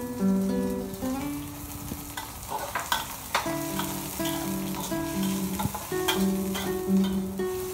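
Shallots sautéing with squid and garlic in a pan, a steady close sizzle with stirring scrapes and clinks, under a background of melodic tones.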